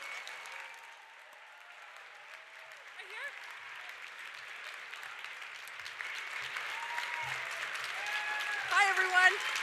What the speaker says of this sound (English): Keep the applause going, everyone.